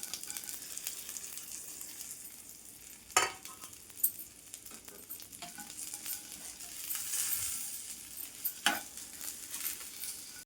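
Fried ivy gourd and okra stirred into a sizzling tempering of mustard and cumin seeds, a steady hiss and crackle with sharp scraping clatters of the spoon against the pan, close and alone.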